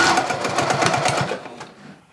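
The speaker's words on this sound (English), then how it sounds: "at the bottom, I'm just gonna back tack again" A sewing machine stitches back and forth to back tack the bottom of a jeans seam, a steady close mechanical whir that fades out near the end.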